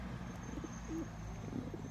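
Pigeons, mostly a single smoky-coloured lineage, coo softly inside a large coop, with short low calls rising over a steady murmur of birds, moderately close.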